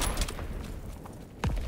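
Gunfire from the game Call of Duty WW2: a couple of short, punchy reports, one at the start and another near the end, over a low rumbling game soundscape.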